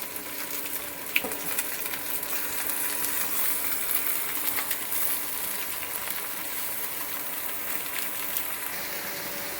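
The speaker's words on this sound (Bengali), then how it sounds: "আর দিয়ে দিচ্ছি এই মাটনগুলো" Mutton pieces fry steadily in a pan, a continuous broadband sizzle with faint stirring clicks, close and moderately loud throughout, no voices.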